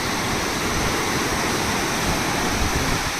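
The flooded Ghod river rushes after water is released from a dam, making a dense, steady roar of churning water that stays loud and unbroken throughout, with no voices.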